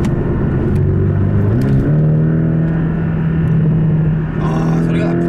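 A Porsche 718 Boxster GTS flat-four engine running steadily, a loud low droning hum with a pitch shift partway through as it changes revs, heard from inside the car with no talk over it.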